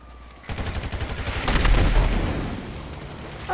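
Rapid gunfire in GTA 5 Online on PS4/Xbox One, a loud sustained burst of overlapping shots that swells in the middle and then tapers off, heard without talk.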